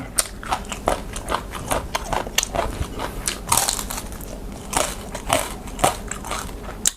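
Crispy fried pork belly eaten with Thai long bean salad, heard as steady, close, loud crunching and chewing with crackly bites throughout.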